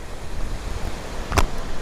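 Sea waves wash and rumble in a steady, broad roar with wind buffeting the microphone and a brief louder thump near the end.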